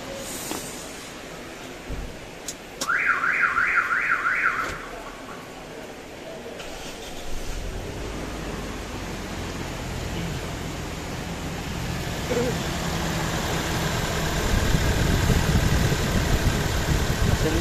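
A car engine misfiring from water in ignition coil number four after a wash cranks with a chiming warning tone, catches, and settles into a steady close idle that grows rougher and louder near the end.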